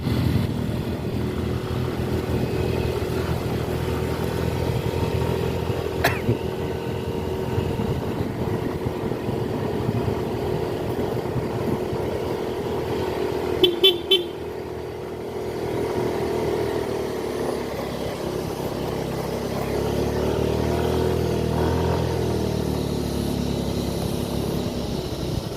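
Motorcycles run along a road in Kabungaan, Philippines, a steady engine drone with rises and falls as they pass, continuous and fairly loud with no one talking.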